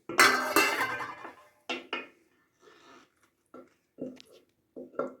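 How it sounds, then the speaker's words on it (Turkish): Old ceramic plates are lifted out and handled in a home kitchen, a cluster of loud clattering clinks at first, then several separate knocks and chinks spaced apart, close by. "Buraya böyle bir tabak daha çıkarttıydım ben. Eski tabaklar."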